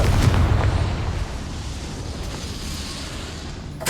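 Confringo fire spell blast in the Hogwarts Legacy video game: a loud explosive burst at the start, fading into a long rumbling tail, with a sharp crack right at the end.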